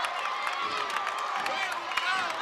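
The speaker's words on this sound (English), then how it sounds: "Taekwon Bryant, Johnny on the spot with the rebound and the lay-in as this Grady crowd is feeling it." A home crowd at a varsity boys high school basketball game cheers and roars steadily after a rebound and lay-in, dense and sustained with whoops, while an announcer talks over it.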